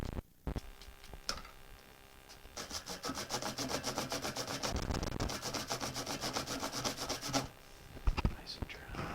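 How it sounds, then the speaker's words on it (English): A paintbrush is scrubbed clean with a fast, steady rubbing rhythm during a cloud painting session, loud and close, running for several seconds before stopping abruptly. "That's just cleaning the brush."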